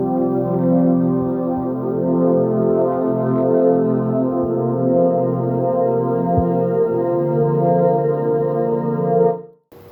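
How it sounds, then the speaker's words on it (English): Mixcraft's default synth pad "Gently Now" plays sustained ambient chords, a smooth, steady harmonic wash held loud and alone for several seconds before cutting off abruptly at the end. "So I've gone into Mixcraft and chosen a default synth pad called Gently Now."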